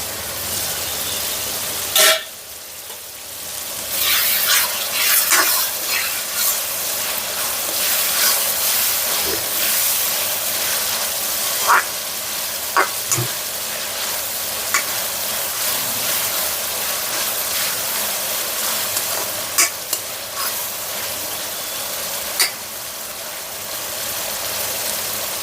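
A pan of oil sizzles steadily with a broad hiss as food is fried and stirred, with occasional sharp clicks and scrapes from the spoon, just before lima beans go in. No one speaks.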